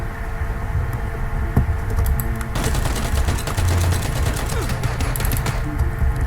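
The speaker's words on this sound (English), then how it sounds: "Yep, already being shot at." Rapid gunfire in PlayerUnknown's Battlegrounds crackles in quick repeated bursts over a constant background rumble, the shots loud and sustained for several seconds while the player rides through the area.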